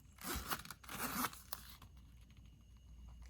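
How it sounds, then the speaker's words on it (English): A zipper on a handmade leather wallet for cash, cards and coins is pulled open in a few quick close scratchy zipping strokes, followed by quiet. "I just checked the operation of the zipper. Really smooth."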